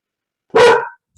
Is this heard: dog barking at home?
yes